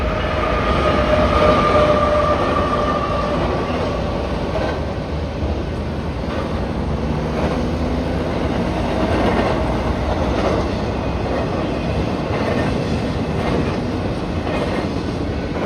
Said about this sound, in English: another eastbound in Montgomery, a BNSF intermodal bathed in front of a fire sky